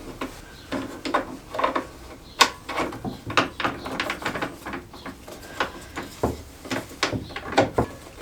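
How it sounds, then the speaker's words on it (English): A stop locking lever is pushed onto the mechanism of an Evolution Rage 3S saw during assembly, giving a string of sharp plastic and metal clicks and knocks at close range, irregular but steady across the clip. "the stop locking lever pushes onto this mechanism down here"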